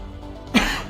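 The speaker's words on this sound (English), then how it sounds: "sorry about the coughing" A single sharp cough sounds close to the microphone about halfway through, short and fairly loud, over a quiet room background with no speech.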